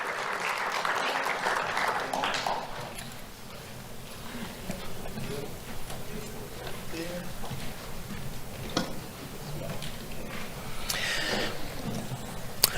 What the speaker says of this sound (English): Let's have a round of applause for Zariah Brooks